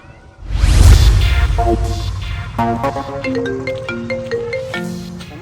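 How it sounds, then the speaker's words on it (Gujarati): A mobile phone ringtone plays loudly after a brief swoosh, a repeating melodic electronic tune of short bright notes continuing to the end, with no one speaking. "ફોન આવ્યો"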